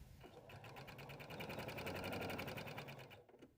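A sewing machine runs a steady fast burst of stitching along the side seam of a tote bag, its rapid needle rhythm even and close before it stops near the end.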